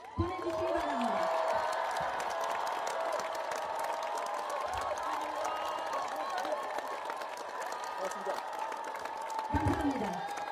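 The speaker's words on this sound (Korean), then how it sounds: "큰 박수를 보내주시기 바랍니다." A large crowd at a South Korean presidential candidacy announcement rally applauds and cheers continuously, with dense clapping, whoops and shouts; an amplified voice sounds over it at moments.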